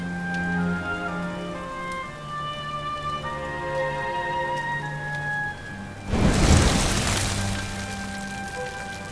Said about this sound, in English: Looks like the rain's dying down.